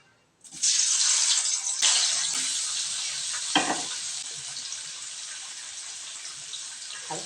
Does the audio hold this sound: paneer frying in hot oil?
yes